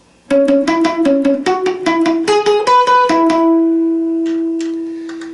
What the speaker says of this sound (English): playing the double notes sounds like this